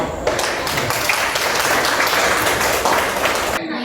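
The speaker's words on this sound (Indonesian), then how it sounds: "Aplaus dulu untuk kelompok." Audience applause for a presenting student group in a classroom lesson: a steady wash of many hands clapping at even volume for about three and a half seconds, ending abruptly.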